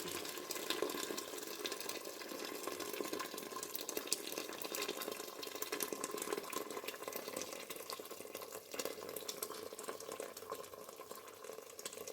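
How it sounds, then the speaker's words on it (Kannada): Hot water is poured into a cooking pot for vangibath, a continuous soft splashing, gurgling stream at low level that runs steadily from start to finish, with no voices. "ಈಗ ಬಿಸಿನೀರು ಹಾಕ್ತಾಯಿದ್ದೀನಿ, ಬೇಗ ಆಗಲಿ ಅಂತ ಬಿಸಿನೀರು ಕಾಯಿಸಿ ಇಟ್ಕೊಂಡಿದ್ದೆ"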